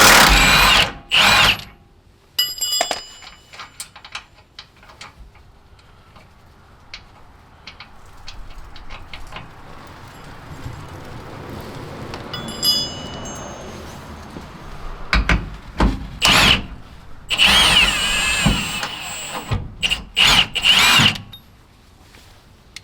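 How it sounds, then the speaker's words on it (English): Power drill or impact tool working the lower leaf-spring shackle bolt on a 2005-2023 Toyota Tacoma, with loud repeated bursts of whirring separated by pauses and clanks of metal, no talking. "using the same 19mm socket and 19mm wrench, locate the lower shackle bolt, and we can go ahead and remove that one completely"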